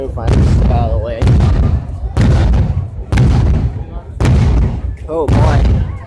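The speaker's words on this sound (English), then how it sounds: "Not really fireworks, just flashbangers" Flashbang firecrackers explode downtown in a rapid series of loud, sharp bangs, about six blasts roughly a second apart, each trailing into crackle, with people's voices under and between the bursts.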